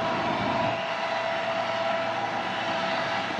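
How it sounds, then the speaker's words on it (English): A steady, broad rumbling roar with a faint tonal hum holds evenly throughout, like heavy train engines passing slowly nearby: CN freight locomotives, two or three, hauling a manifest train slowly out of a tunnel. "we've got a train coming out of the tunnel"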